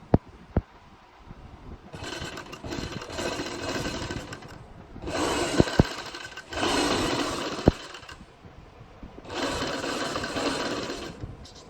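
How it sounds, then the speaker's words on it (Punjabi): A sewing machine stitching a seam on a kachhera, running in several loud bursts of whirring stitches with short pauses between, plus a few sharp clicks from handling, close up and alone. "ਉਹਦੇ ਨਾਲ ਨਾਲ ਬਿਲਕੁਲ ਨੀਚੇ ਇੱਕ ਸਲਾਈ ਆਪਾਂ ਹੋਰ ਲਾ ਲੈਣੀ"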